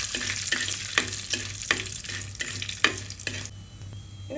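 Dried red chillies fry in hot oil in a pan for a Kerala tender jackfruit thoran, a close, steady sizzle broken by repeated sharp scraping bursts of stirring about every half second.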